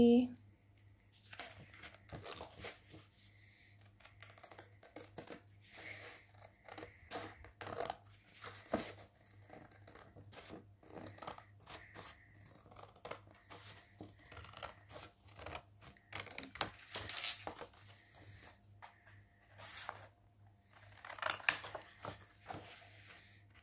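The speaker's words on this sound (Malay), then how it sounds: "Okay, jom kita gunting kita punya main scale." Scissors cutting the paper main scale of a model vernier caliper: faint, scattered snips and paper crinkles at an irregular pace, with a low steady hum behind them and occasional quiet talk.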